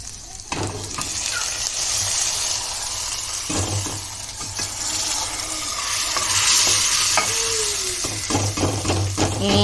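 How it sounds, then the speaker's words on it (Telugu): Onions and green chillies fry in a pan for a sprouted horse gram curry, a close, steady sizzle broken by scraping stirs and occasional clatters, with soft voice sounds underneath. "కొద్దిగా ఉల్లిపాయలు వేగినండి"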